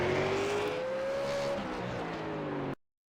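Race car engine in the video game iRacing, an ARCA car lapping the LA Coliseum track. A loud steady drone rises slightly in pitch, then the sound cuts off abruptly near the end.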